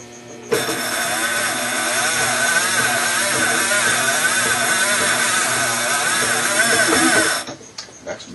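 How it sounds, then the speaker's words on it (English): A fishing reel spool spun with the drag set, giving a steady whirring mechanical hum that starts abruptly, runs evenly for about seven seconds, then cuts off and leaves faint handling noises. "So take the arm over, we've got a reel, drag is set, and we'll spin the spool."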